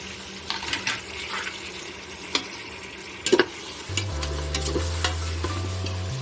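Tomatoes added to frying onions for Tamil-style mutton kulambu and stirred, a low sizzle under scattered spoon clinks and one sharp clatter, with a deeper steady hum joining in the final seconds.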